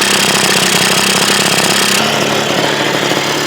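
A 1980 Suzuki FZ50 moped engine runs with its air cleaner removed, giving a loud, steady, rapid buzzing drone close by that changes tone slightly partway through, with no talking.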